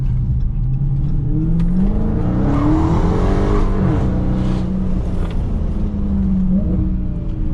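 Heard from inside, a 2021 widebody Dodge SRT Hellcat's supercharged V8 roars under load while drifting, revs climbing and dropping with tire squeal sweeping through, loud and continuous.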